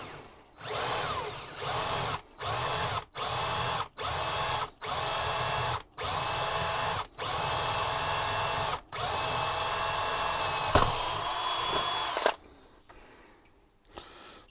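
A power drill boring a hole during installation of a GS1 unit, running in a series of about eight short bursts followed by one longer continuous run, loud and close, with no talking.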